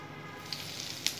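Dried red chillies, panch phoron and bay leaf sizzling in hot oil: steady soft frying hiss with a couple of small crackling pops, close and fairly quiet, no talking.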